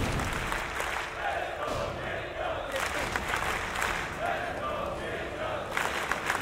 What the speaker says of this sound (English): The crowd is really starting to come alive now.